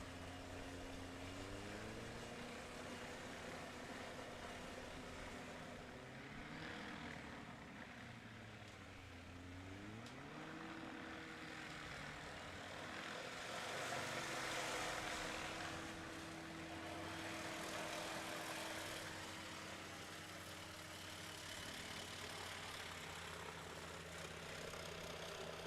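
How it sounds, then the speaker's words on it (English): A 2016 Just Aircraft Highlander with a Rotax 912 engine at a mountain STOL competition: steady propeller and engine drone that shifts pitch several times, with a rising and falling tone and a louder stretch midway, over background hum. "in the 2016 Just Aircraft Highlander. This one powered by a Rotax 912"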